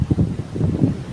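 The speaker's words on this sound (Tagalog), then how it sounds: "Lakas ng hangin." Strong wind buffeting the microphone outdoors at a hilltop garden under hot sun, low rumbling gusts pulsing unevenly and close, with no voices.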